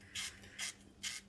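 Three quick bursts of ratchet clicking from a wrench with an 8mm socket loosening a bolt on a BMW 3 Series engine, close and fairly quiet, with no talk.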